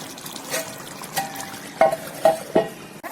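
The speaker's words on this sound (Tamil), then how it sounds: "இந்த தண்ணி இன்னும் கொஞ்சம் ஒரு மாதிரி சலசலம் சத்துங்க பார்த்தீங்களா" Chickpea mixture for konda kadalai curry frying in a pan as its water boils off, with a steady background sizzle and a few louder stir scrapes near the end.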